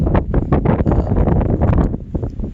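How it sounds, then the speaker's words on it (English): Heavy wind buffets the microphone in loud, rumbling gusts, with no voice over it. "Sorry, it's so windy."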